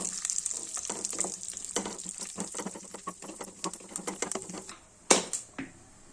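Dry fruits fry in ghee in a pan, giving a steady close hiss broken by a quick patter of crackles and pops. Louder spits stand out near the end, with no talk.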